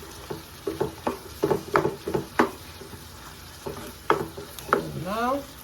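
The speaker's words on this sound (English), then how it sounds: "So the meat is cooking fast" Ground meat for ragù bolognese fries in a pan, with a series of sharp stirring scrapes and knocks over a soft sizzle, closely miked, then a brief squeaky scrape at the end.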